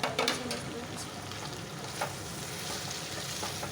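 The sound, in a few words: butter sizzling in pan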